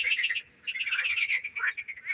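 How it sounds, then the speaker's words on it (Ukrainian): Frogs croak in a spring garden among blossoming trees, a loud, near chorus of rapid trilling pulses that come in bursts with a brief gap and then carry on without pause. "Якби не ці жаби, було б чути, як гудуть бджоли."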